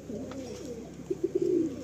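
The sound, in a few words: Chatiyal pigeon pair cooing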